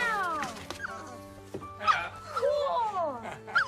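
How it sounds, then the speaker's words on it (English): A new puppy in a family film yips and whimpers in short, high, wavering cries, close and fairly loud, broken by pauses, over a faint background tone. "And it's a new dog."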